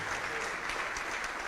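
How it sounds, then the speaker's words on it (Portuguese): A church congregation applauding during a sermon, with dense, even clapping from many hands in a short continuous burst. "Vamos aplaudir mais, igreja."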